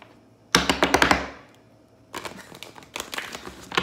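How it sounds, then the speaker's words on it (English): A deck of tarot cards is shuffled close up, in a quick riffle of rapid flicks that ends in a soft settle, followed by two more bursts of card slapping and riffling. "Let's give it one more shuffle."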